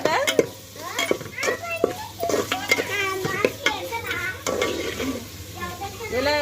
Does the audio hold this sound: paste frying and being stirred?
yes